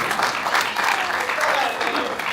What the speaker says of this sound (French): Applaudissons pour Sakina.